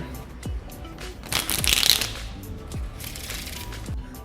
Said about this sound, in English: riffle both of them, push together, add pressure, create the bridge, and release the pressure